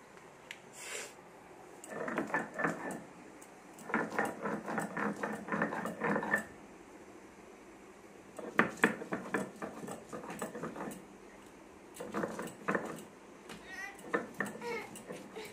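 Garlic cloves ground by hand on a grinding stone in a home kitchen, heard as bursts of rapid rhythmic scraping and knocking separated by short pauses, with a person talking over parts of it.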